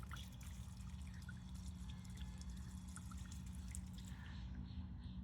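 Dirty water drains out of a cut copper pipe while a garden hose bib is being replaced, a steady low trickle and dribble running the whole time with no talking.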